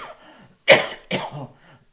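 Two sharp, close coughs in quick succession, the first the louder, with quiet breathing around them.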